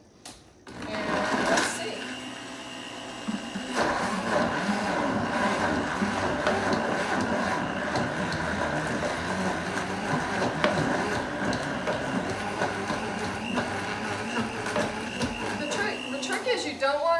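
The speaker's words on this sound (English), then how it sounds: "This is my trusty Vitamix from 1990." A 1990 Vitamix blender starts up and runs continuously, its loud motor whirring and grinding as it blends frozen bananas into nice cream, with a brief spoken phrase at the start.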